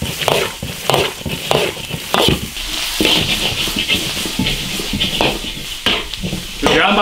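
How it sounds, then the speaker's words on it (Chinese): Pork lung stir-fried in a large iron wok with Sichuan pepper and dried chili, giving a steady loud sizzle and frying hiss broken by repeated scraping, clattering strokes of a spatula against the metal pan. "炒香，下花椒、干辣椒"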